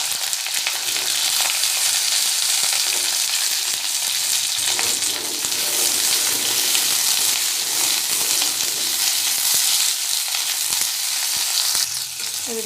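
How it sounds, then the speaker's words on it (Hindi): Cut okra frying in hot oil for bhendi ambula besara, giving a loud, dense, continuous sizzle and crackle that runs unbroken throughout. "भेंडी जो काटी ताको एबे भाजीबा"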